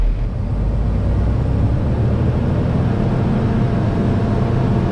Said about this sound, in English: First truck we're going to be driving today is one of the 12-speed autos.